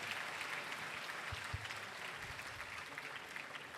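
Steady applause from a crowd at an open-air pilgrimage Mass, fairly distant and soft, a continuous patter of many hands clapping throughout.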